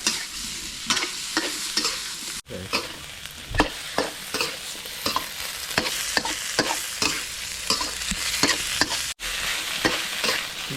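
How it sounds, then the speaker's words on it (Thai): Aromatics and pork sizzle steadily in a hot pan over moderate heat while a utensil scrapes and stirs in quick, repeated strokes, close and fairly loud. "ก็จะผัดเครื่องหอม ผัดร่วมกับหมูเลยเนี่ยแบบนี้เนี่ยอ่า"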